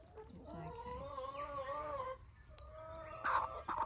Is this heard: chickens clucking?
yes